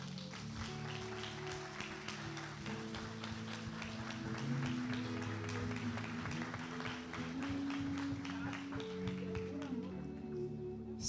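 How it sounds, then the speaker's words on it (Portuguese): A church congregation applauds together during a Sunday service, a dense, steady wash of clapping from many hands that holds for several seconds, with sustained organ or music tones underneath. "Você pode aplaudir o Senhor?"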